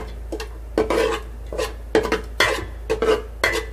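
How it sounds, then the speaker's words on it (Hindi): Homemade masala spice mix frying in hot oil in a pan, heard as repeated stirring scrapes and clinks of a spoon against the pot over a steady low hum. "अभी हम इसमें डाल देते हैं ये मसाला जो हमने बनाया था। अभी इसको फ्राई करेंगे थोड़ी देर के लिए हम"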